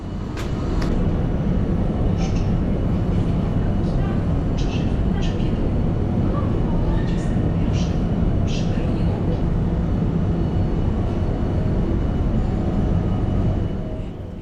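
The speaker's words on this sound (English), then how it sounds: "Let's take a final look at our train departing for Białystok in the northeast of Poland" PKP Intercity passenger train pulling out of Warsaw Central station, bound for Białystok: a steady, loud low rumble of rolling wagons fills the whole stretch, with brief higher squeals and clanks scattered through it.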